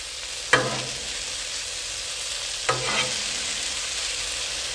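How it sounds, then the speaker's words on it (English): A spatula scrapes and flips cheesy hash brown casserole on a Blackstone griddle, two distinct scraping strokes over a steady background sizzle, close and alone without talk. "just keep flipping it and mixing it"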